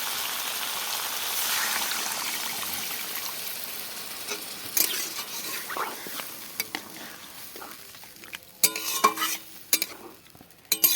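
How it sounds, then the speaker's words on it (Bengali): Wild mushrooms and fried potato stir-fried in a pan, with a steady sizzle and scraping stirs, growing louder with sharp clatters of the spatula near the end. "ভেজে রাখা ছাতা দিয়ে দিচ্ছি, দিয়ে ভালো করে আমি কিছুক্ষণ কষে নেব"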